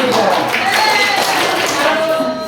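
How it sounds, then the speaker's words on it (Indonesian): Dense applause from workshop participants fills a classroom, a steady wash of many hands clapping at once, loud and continuous for a couple of seconds with faint voices mixed in. "Kita tepuk tangan yang meriah."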